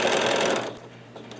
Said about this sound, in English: Pivot your fabric and stitch down.